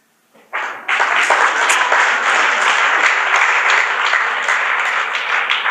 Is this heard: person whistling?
no